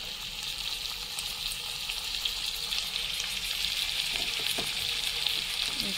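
Minced meat keema frying in oil in a pan, a steady close sizzle with soft crackle and occasional stirring, no talking over it.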